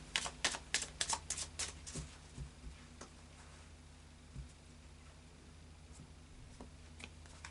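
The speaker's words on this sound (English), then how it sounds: "I'll just do a final shuffle now" A deck of oracle cards being shuffled, a quick burst of crisp riffling snaps at the start, then sparse soft card taps in a quiet room.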